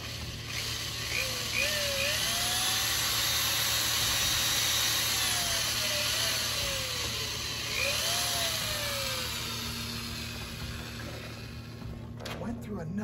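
A hole is drilled in plastic on a 1979 Chrysler Cordoba during roof rail seal replacement, giving a steady whirring drill sound with a few rising and falling pitch sweeps, fairly quiet and heard alone.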